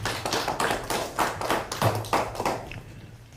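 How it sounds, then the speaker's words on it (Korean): Audience at a Democratic Party campaign rally in Busan claps steadily and loudly, a dense wash of many hands that fades slightly toward the end, with no talking over it. "힘찬 박수 부탁합니다."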